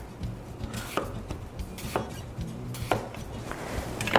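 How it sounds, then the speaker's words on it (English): A knife cuts repeatedly into potatoes for hasselback potatoes, with about five crisp chopping strokes knocking on a board at a steady rhythm, close and clear with no talking. "I don't cut too far down on the potatoes"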